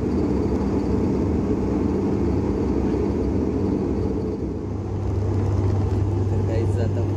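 Inside a passenger plane on its Mumbai to Sindhudurg flight as it descends to land, a loud, steady cabin roar of engines and airflow with a low droning hum that swells slightly near the end.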